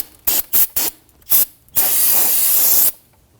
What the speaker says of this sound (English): Take some spray solvent and we're going to clean this up.